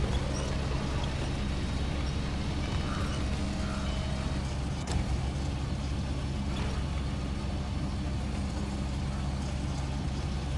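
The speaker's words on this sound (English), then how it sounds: "trying to load these metal beams neatly onto the trailer" In SnowRunner, a truck-mounted crane lifts metal beams onto a trailer over a constant low diesel idle, with mechanical creaks and clanks from the rig, steady and near, without speech.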